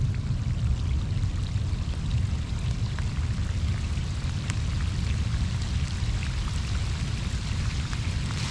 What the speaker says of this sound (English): There's that rain.